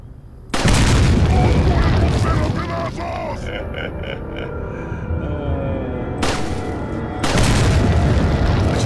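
Loud booming blasts in Resident Evil 4 erupt in bursts, separated by quieter stretches of rumbling and clatter, with a voice talking in between.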